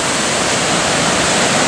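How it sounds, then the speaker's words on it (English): A waterfall cascades just off a hiking trail near Lake Louise, a loud, dense, unbroken roar of falling water close by, with no voices. "waterfall just off the trail"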